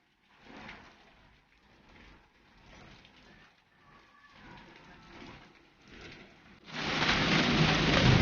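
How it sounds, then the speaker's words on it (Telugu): A hailstorm drops ice pieces with rain in Hyderabad, Telangana. Scattered patter on a surface builds into a loud, dense downpour roar over the last seconds. "ఐస్ ముక్కల వాన పడుతుంది."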